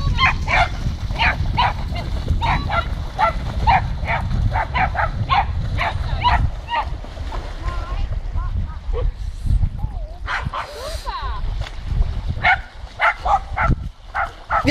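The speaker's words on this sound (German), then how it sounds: "Jetzt kann die schon beim Schwimmen bellen." A dog barks repeatedly while swimming, its rapid, insistent yaps coming in steady bursts over splashing water, pausing briefly before resuming loud and close.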